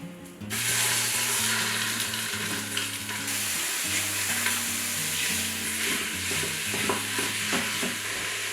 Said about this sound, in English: I'm gonna go ahead and toss in this sausage. We're gonna saute that up until it's nicely browned.